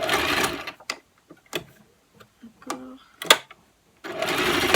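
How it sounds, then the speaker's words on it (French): A sewing machine stitches a fabric face mask in two loud, close whirring bursts at the start and end. Quiet handling noises and a brief spoken word fall between them. "Je vais coudre encore ici."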